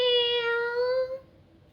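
A thin, dirty white cat gives one weak, high, drawn-out meow lasting about a second, then trails off into quiet.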